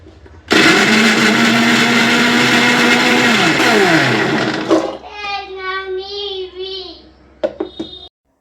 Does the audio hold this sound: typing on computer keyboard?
no